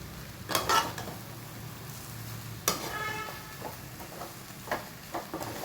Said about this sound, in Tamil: இந்த மாதிரி முட்டையை மசாலாவோட சேர்த்து கிளறிக்கலாம்.